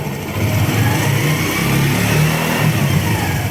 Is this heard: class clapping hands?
no